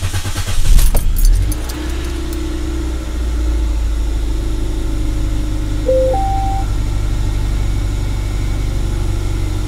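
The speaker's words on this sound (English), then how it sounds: "Let me turn on the engine." Keys jangle, then a car engine turns over and settles into a steady, low idle hum.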